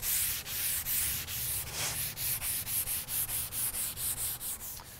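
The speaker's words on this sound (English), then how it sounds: "you want to use a medium to fine grit sandpaper for cedar so you don't scratch it too badly" A cedar side table being sanded by hand with medium-fine grit sandpaper along the grain, producing steady rhythmic rasping strokes, about four per second, close and alone.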